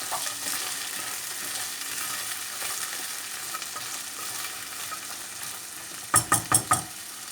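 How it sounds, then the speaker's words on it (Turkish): Peas sizzle and fry in a pan with potatoes, a steady close crackle with light stirring throughout, ending in a few sharp knocks of a utensil against the pan. "Onları soteleyeceğiz."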